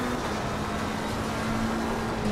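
Porsche Cup race car engine droning steadily in a racing game, a constant mid-pitched hum with a faint whine held at an even level throughout.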